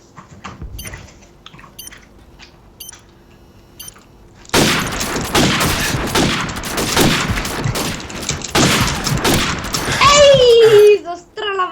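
Sniper rifle fire in Call of Duty 4 Search and Destroy: sharp shots and dense bursts of game gunfire over quieter ambience, growing loud and busy partway through, with voices talking over the action.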